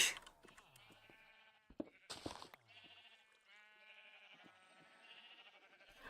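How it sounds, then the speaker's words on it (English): Sheep in a video game bleating repeatedly, several overlapping wavering calls close and clear, with a few short clicks and thumps from the game between them. "Oh, those sheep are so noisy."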